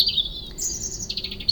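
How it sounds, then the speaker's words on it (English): Birds chirp and twitter outdoors in a churchyard setting at St Nicolas' Taplow, a bright, continuous run of high tweets over a low background rumble, fairly close and with no voices. "The birds singing in the trees, waking us with their dawn chorus"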